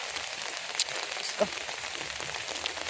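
Soft, steady rainfall hisses in the background on a commute to work, faint and even, with a couple of brief nearby knocks or clicks.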